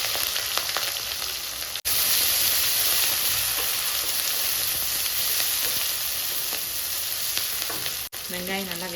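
Green chillies, shallots, onions and curry leaves stirred in a hot oily pan for chicken gravy, with a loud continuous sizzle and spatula scraping throughout, briefly cut off twice.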